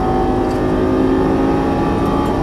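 A Lamborghini Gallardo LP550-2 engine pulls hard on a track, a loud, steady, sustained drone with strong low rumble and no break in the roar.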